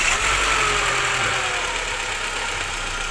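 A car with a late-start problem idles steadily after starting, its engine a close, even hum with a faint knocking undertone, alone with no voices.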